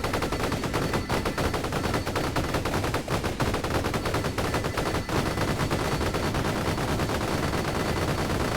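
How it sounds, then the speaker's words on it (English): Homing missile weapons in Vampire Survivors fire constantly in a dense, loud, rapid stream of overlapping shot and impact sounds with no pauses. "Alright, homing missile."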